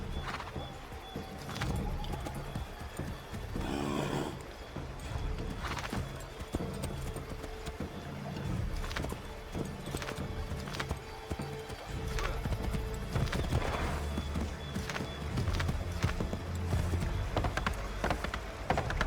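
Horse hooves clip-clopping at a steady gallop while riding in Assassin's Creed III, continuous and close throughout over a busy game soundscape, with an occasional whinny.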